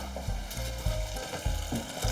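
Ingredients for a gardiane-style stew frying in a saucepan in a Provençal kitchen, a steady sizzle broken by regular scraping stirs, close and fairly loud.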